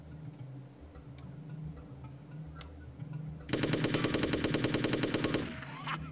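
Rapid automatic gunfire from the video game Hitman bursts in after a quiet stretch, a dense rattling volley of shots lasting about two seconds, loud and close, then fading back to low game ambience.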